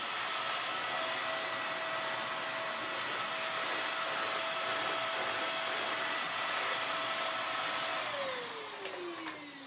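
A Vax Air Pet U88-MA-SE upright vacuum cleaner runs with a steady, loud whine from start to finish, its motor pitch sliding downward near the end as it begins to wind down.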